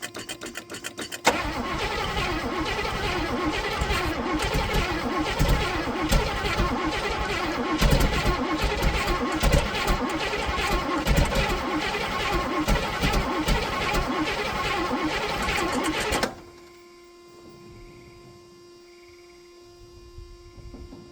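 A Buick 350 V8 on a low battery cranks loudly and steadily for about fifteen seconds without catching, then falls silent apart from a faint, steady electrical hum.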